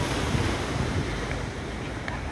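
Ocean surf rolls continuously at Brown's Beach on Carlisle Bay, Barbados, a steady wash of waves mixed with wind buffeting the microphone, with no voices.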